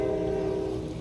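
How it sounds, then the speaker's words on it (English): A passing train sounds near a wet outdoor spot where a remote-control car is being driven in the rain, a steady tonal drone like a horn or engine note over low rumble, brief and moderately loud. "Thanks, train, being loud."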